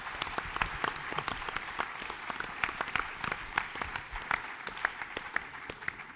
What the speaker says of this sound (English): I think they deserve a bit of a round of applause for that